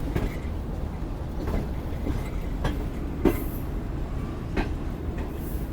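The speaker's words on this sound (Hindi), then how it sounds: "पीछे तक पूरी ट्रेन जो है वो कर्व होती हुई आ रही है।" The Shalimar Express rolls along a curve on a Pakistani main line with a continuous low rumble, a regular clickety-clack of wheels and a faint squeal now and then.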